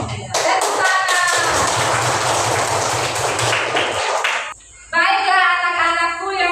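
Children in a classroom clapping their hands together in a dense, loud burst of applause lasting several seconds, followed by a short pause and then rhythmic patterned claps with voices.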